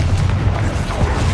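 Bombarda blasting spell going off in Hogwarts Legacy, a dense, loud rumbling boom that fills the whole moment with sustained low-end energy and no clear pauses.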